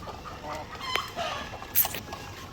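Chickens of the Barred White breed cluck in short, scattered calls inside a makeshift coop converted from a pig pen after heavy rain, faint and close with a soft background hiss.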